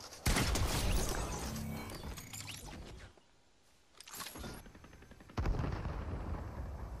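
Gunfire in the video game Fortnite from a shotgun and an assault rifle: loud bursts of shots, a short quiet gap, then more sharp blasts and rapid fire, with no talking.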